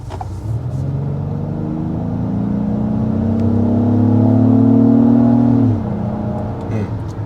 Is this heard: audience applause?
no